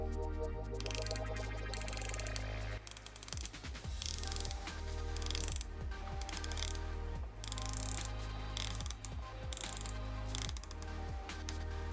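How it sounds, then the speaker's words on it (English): The unidirectional bezel of an Oris Aquis 39.5mm dive watch being turned, giving runs of crisp, close ratcheting clicks in bursts separated by brief pauses, loud and alone. "Sticking with that bezel action, ASMR people, turn up your speakers."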